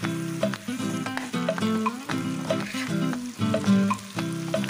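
Tengra fish sizzles with spices in a pan, a steady close frying hiss broken by scrapes of stirring, with tonal music running underneath.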